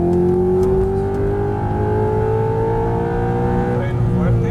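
An exotic sports car on a track near Cancun accelerates hard, its engine a loud, close, sustained roar rising steadily in pitch through a gear, filling the whole moment without a break.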